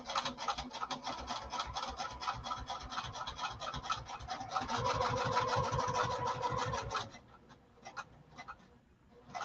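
A sewing machine stitches along a marked line on a lining, close and fairly quiet, with a fast, even rattling run of needle strokes that briefly intensifies, then stops, followed by a few scattered clicks.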